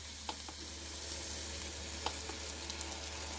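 Vegetables saute quietly in a Stirmax multicooker with its stirrer, a soft steady sizzle broken by a few light clicks and taps from the pot.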